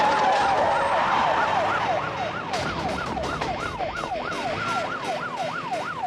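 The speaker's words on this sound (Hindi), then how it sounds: "ये तो पुलिस का सायरन है।" A loud police siren wails in quick rising and falling sweeps, repeating steadily over faint road noise.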